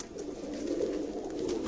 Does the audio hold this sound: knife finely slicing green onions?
no